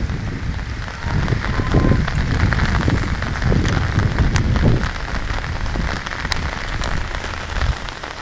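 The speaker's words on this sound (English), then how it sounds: "Wow, all this raining." Heavy rain pours onto a road during a storm in Sharjah, a dense, steady hiss of drops hitting pavement with a few sharper splashes scattered throughout and no voices.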